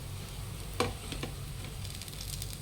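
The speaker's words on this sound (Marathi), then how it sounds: "दोघं बाजूने छान मस्त कमी गॅसवर लाल खरपूस होईपर्यंत आपण इथे भाजून घेतलेले आहे" Sweet corn cutlets shallow-fry in a pan on a low gas flame, a soft, continuous sizzle with one brief clink of a utensil near the start.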